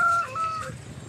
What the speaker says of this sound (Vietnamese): Gà kêu á? Ui, gà kêu.